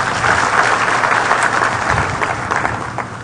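A seminar audience applauds a finished presentation, steady dense clapping from many hands filling the room at even loudness for a few seconds before tapering slightly at the end.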